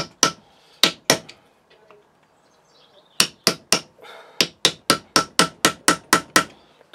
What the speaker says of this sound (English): I can chisel between those